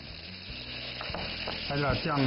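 Pork frying in a hot wok with red pepper as rice wine goes in, a close, loud sizzle that swells when the liquid hits, with stirring scrapes and a voice speaking briefly over it.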